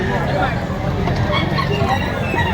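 Chickens clucking and a rooster calling at the Lipa livestock auction market, close and loud amid crowd babble and people talking nearby.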